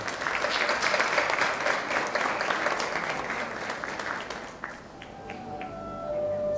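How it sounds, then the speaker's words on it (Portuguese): An audience at a literature symposium applauds the participating teachers with a full, sustained round of clapping that thins out and fades after about four seconds, leaving softer room sounds and faint tones. "Por favor, mais uma salva de aplausos."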